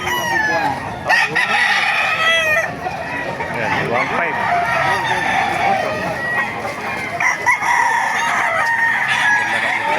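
Many roosters crowing and chickens clucking together at a chicken market in Baliuag, Bulacan, a loud, busy chorus, with a voice speaking briefly among them.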